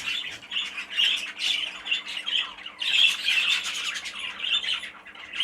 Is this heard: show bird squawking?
yes